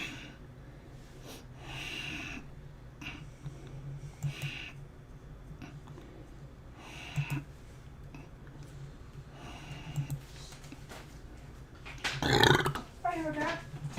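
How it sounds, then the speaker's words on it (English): A man burps after eating an egg roll, one loud, rough belch standing out near the end over quiet, low background noise, with a few softer throaty sounds and some talking around it. "Had an egg roll this morning. I'm burping it."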